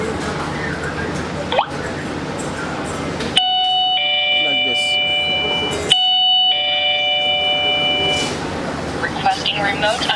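Electronic chime of a smart lock's doorbell rings twice as steady tonal tones, close and clear, while a voice talks before and after.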